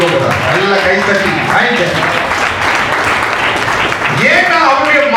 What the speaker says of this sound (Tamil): நல்ல கைத்தட்டி